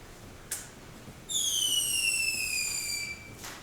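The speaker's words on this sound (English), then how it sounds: "Look, Penny, what do you think of these little firecrackers we just made?" Homemade firecrackers set off as a stage-play sound effect: a brief pop, then a loud sustained whistling crackle lasting nearly two seconds, followed by a faint final pop, with no talking.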